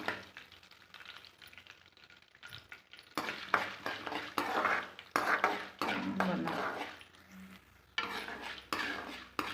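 Coriander and mint stir-fried in a pan over a low flame, giving a soft steady sizzle with scattered scrapes and clinks of a spatula against the pan, no talking.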